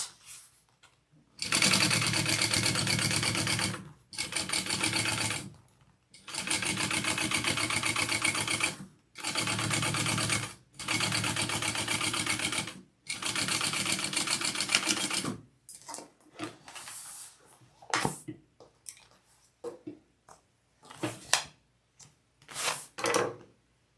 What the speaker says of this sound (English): And then we are going to top stitch that.